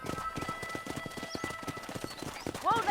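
Horse hooves gallop in a steady clip-clop rhythm through the Red Dead Redemption video game, close and continuous, with a brief whinny near the end and faint background voices.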